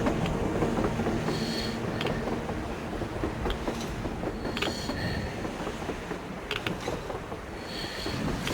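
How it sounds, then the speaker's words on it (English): A train in the video game Metro Exodus rumbles past with a steady low roar, rattling mechanical clanks and occasional metallic squeaks, continuous and fairly loud throughout. "A train! A damn train on the surface!"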